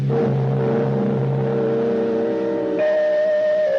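Automobile engine sound effect in a 1953 radio drama runs with a steady tonal whine that shifts pitch near the end, close and alone without talk.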